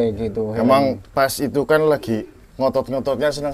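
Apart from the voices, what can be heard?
No everyday noises stand out.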